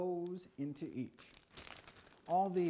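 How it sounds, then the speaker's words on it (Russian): Reusable plastic produce bags crinkle as celery stalks are dropped into them one by one while preparing a vegetable smoothie; short, close rustling bursts alternate with someone speaking. "Начнем с пяти многоразовых пакетов. Положим по стеблю сельдерея в каждый из них."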